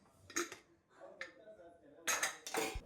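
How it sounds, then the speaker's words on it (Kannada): Dishes and pots being washed give a few quick, close metallic clatters and knocks in a quiet kitchen, separated by short gaps, with some faint shuffling in between. "ಅಯ್ಯೋ ಪಾತ್ರೆ ತೊಳಿಬೇಕು ನೋಡಿ, ಎಷ್ಟೊಂದು ಪಾತ್ರೆ ಇದೆ ಅಂತ."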